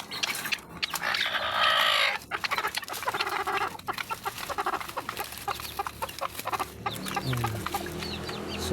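Chickens cluck close by on a farm, with a brooding hen sitting on a clutch of eggs; the clucks are frequent, uneven and layered over steady background noise, with no talk.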